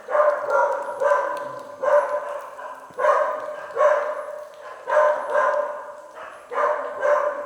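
A dog barks loudly and close by at an abandoned school in steady, evenly spaced bursts, about ten barks, some in quick pairs, with quiet gaps between.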